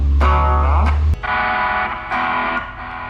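Electric guitar with a Port 2.0 high-gain distortion boosted by a Boss SD-1 Super Overdrive, loud and saturated, ringing chords struck several times with sustained decays and a sharp change partway through; no talking.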